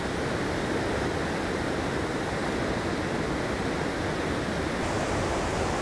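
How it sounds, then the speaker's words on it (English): Loud rushing water of the Afon Glaslyn river in the Aberglaslyn Pass, a steady broadband roar that fills the whole stretch without a break, close and dominant with no voices. "it's extremely loud down there, the water is really noisy"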